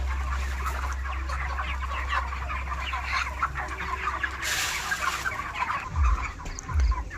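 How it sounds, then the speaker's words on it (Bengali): A crowd of chickens on a village poultry farm clucking continuously as they jostle for freshly given feed, a dense close chorus of overlapping clucks over a low steady hum, with a few louder thumps near the end. "দেখুন আপনারা খাবার দেওয়ার সাথে সাথে মুরগিগুলো কিভাবে ভিড় করে খাবার খাচ্ছে।"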